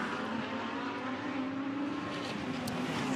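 GT race car passing through Acqua Minerale at Imola, clipping the exit curb over the brow: a faint, distant engine whine blended into steady broadband track noise.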